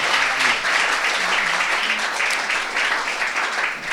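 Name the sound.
audience applause for a speaker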